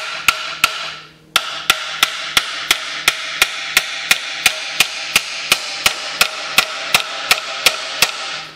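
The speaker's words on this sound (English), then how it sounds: "we are going to drive these nails in" Hammer striking nails into pre-drilled holes in wood, a steady series of sharp evenly spaced blows, about twenty in all, loud and close with no talk.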